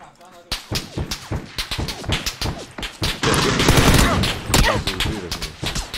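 Rapid gunfire in a video game shooter cracks in dense bursts and single shots, loud and close, with a sustained stretch of automatic fire near the middle; a player talks over it.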